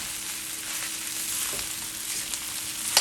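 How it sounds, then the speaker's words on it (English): Pineapple fried rice is stirred in a hot pan, giving a steady crackling sizzle with occasional scraping and a sharp clink near the end, and no talking. "you would definitely want to continue stir frying"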